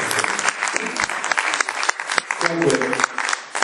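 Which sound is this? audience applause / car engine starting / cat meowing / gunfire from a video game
audience applause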